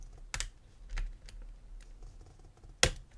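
Small, sharp metallic clicks from lock picking on an OnGuard Pitbull 8006 slider D lock, a few isolated ticks close up over quiet scraping, with one crisp click near the end.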